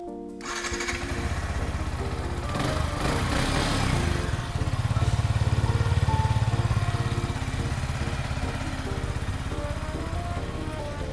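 A 2023 Yamaha YZF R15 motorcycle engine runs steadily at close range, a low droning idle with a slight rise in revs partway through, heard alone without talk.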